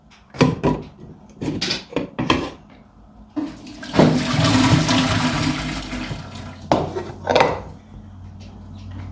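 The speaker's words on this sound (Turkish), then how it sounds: "Patates kaynadı. Şimdi suyunu dökeceğim." Water is poured off a pot of boiled potatoes. A few knocks and clatters of the pot lead into a loud, rushing gush of draining water lasting several seconds, then more handling noises, with no talk.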